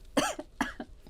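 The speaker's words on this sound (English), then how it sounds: "Sorry about the coughing." Two short, sharp coughs from one person, near and clear, each followed by a softer catch of breath, recorded indoors during a quiet planner setup.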